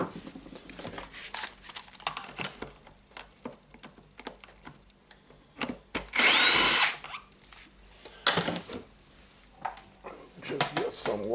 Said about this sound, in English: so definitely we need to unscrew them